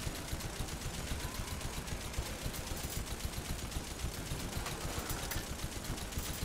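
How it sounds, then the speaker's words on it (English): A video game turret fires a fast, even stream of rapid shots that rattle steadily throughout, loud and close with no talking. "That's a turret."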